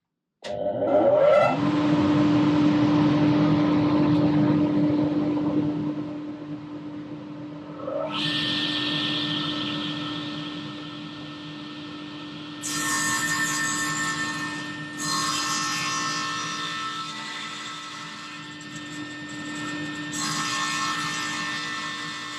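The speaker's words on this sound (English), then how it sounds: "I've just set up to cut this back piece" A power saw cuts the wooden back piece for a screw shelf in a workshop: a long whining cut that spins up and runs steadily, then several shorter bursts of cutting follow, close and fairly loud with no talking.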